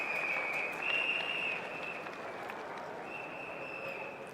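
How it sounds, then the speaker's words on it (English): Applause from the crowd at a Singapore Democratic Party campaign rally, a moderate, even patter of clapping that holds steady, with a raised voice sounding over it. "Let's give him a big round of applause, everybody."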